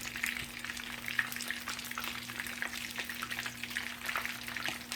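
Shrimp tempura fries in hot oil with a dense, continuous bubbling sizzle. Tongs pull the pieces apart with faint clicks underneath, and nobody talks.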